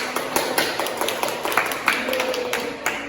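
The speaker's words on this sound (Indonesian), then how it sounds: "Beri tepuk tangan dulu." Classroom applause during a Year 9 micro-teaching lesson: scattered, uneven clapping from a group of students, fairly close and continuous for a few seconds, with faint murmuring underneath.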